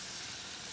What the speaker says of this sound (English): Nice sizzle, pan's nice and hot.